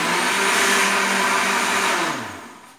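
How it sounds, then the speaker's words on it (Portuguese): A kitchen blender whirs loudly and steadily as it mixes passion fruit liquid, then winds down over the last second. No talking. "Agora que você bateu todo esse líquido aqui, ó, do teu liquidificador"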